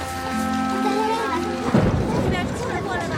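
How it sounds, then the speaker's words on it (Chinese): Rain falls steadily in a scene from a Chinese costume TV drama, a broad wash under a long sustained voice and louder speech, with a crowded, busy mix. "下雨了，下雨了，下雨了，起来，下雨了"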